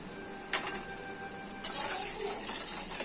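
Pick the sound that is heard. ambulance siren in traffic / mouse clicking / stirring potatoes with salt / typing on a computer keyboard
stirring potatoes with salt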